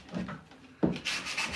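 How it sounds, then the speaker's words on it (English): Salvaged wood is hand sanded in a few short, close rasping strokes, with a sharper scrape midway followed by a brighter, hissing pass; no one speaks. "It's getting real good and chippy with this hand sanding."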